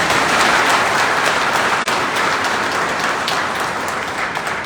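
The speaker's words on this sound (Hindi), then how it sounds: "बहुत सारी तालियां सर के लिए एक बार।" Sustained audience applause for a guest at a Hindi book discussion event, dense, even clapping filling the whole stretch without talk.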